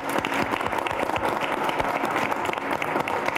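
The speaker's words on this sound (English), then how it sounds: "A nice round of applause." A college gathering's audience gives a dense, steady round of hand clapping that fills the room, near and loud throughout with no talk.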